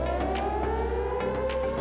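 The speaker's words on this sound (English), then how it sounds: "If there is an emergency, there will be a general warning which sounds like this." A steady, droning emergency warning siren wails continuously, loud and unbroken, with faint rustling bumps over it.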